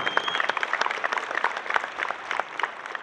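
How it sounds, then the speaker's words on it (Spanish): Audience applause at the opening ceremony of a dairy expo, a steady patter of many hands clapping at moderate volume for about three seconds, with no voices standing out. "Un aplauso."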